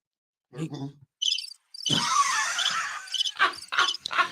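A crickets chirping sound effect played on a morning radio show, heard as short bursts of shrill pulsed chirps broken by gaps, with a squealing sound mixed into the middle.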